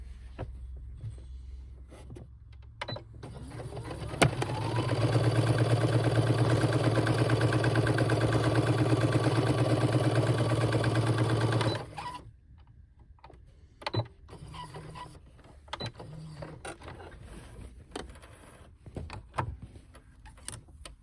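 A sewing machine stitches shirring elastic into fabric, a steady motor hum with a fast, even rhythm lasting about seven seconds, framed by quieter handling rustles and small clicks before and after.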